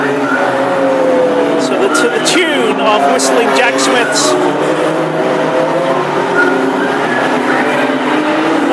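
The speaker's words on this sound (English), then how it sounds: "They're just warming up the engines," Classic hot rod race car engines idle and rev while warming up before the East Anglian Championship final at Ipswich on a freezing evening, a steady rumble under continuous commentary and music.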